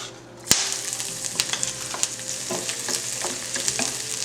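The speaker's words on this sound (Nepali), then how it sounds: "तेल तातिसकेपछि चाहिँ हजुरहरू ग्रीन चिली र यसमा गार्लिक जिन्जर राख्नु होला।" Green chili, garlic and ginger hit hot oil with a sudden loud crackle, then keep up a steady close sizzle punctuated by stirring clicks and scrapes against the pan.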